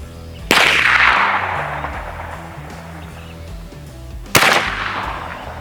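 An airgun fires Flanigans Precision pellets with round-nose or spike heads. Two sharp, loud shots come several seconds apart, each followed by a brief decaying ring, with no talk.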